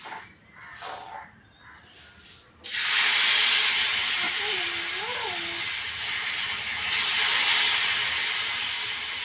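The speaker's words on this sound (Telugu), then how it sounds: "అలాగే అల్లం ముక్కలు పెసరట్టు వేస్తున్నానండి ఆయిల్ వేసాను" Pesarattu, a green gram dosa, sizzling loudly in oil on a hot pan, the hiss bursting in abruptly after a few quiet seconds and holding steady close by, with a faint voice murmuring briefly underneath.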